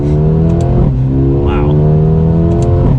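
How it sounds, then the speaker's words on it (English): A 2020 Mercedes-AMG CLA 35 accelerates with its engine revving hard, a steady loud drone that holds through the whole stretch and climbs slightly in pitch, while a voice briefly exclaims over it. "So we'll do a small acceleration."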